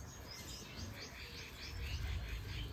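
Giribaz pigeons kept in a loft give faint, high, repeated chirping calls in quick series over a quiet low background, with no one speaking.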